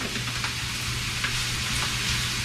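Already-cooked bacon, about two cups with its remaining fat, sizzles steadily in oil and butter in a pan, a close, continuous hiss with faint crackles throughout.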